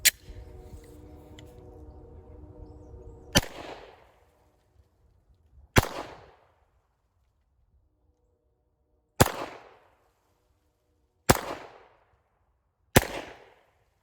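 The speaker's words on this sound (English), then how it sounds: "I don't normally shoot with the Glock." Glock 9mm pistol firing cast hollow point rounds outdoors, five sharp loud shots spaced a few seconds apart, each followed by a brief echo, after a short stretch of background noise.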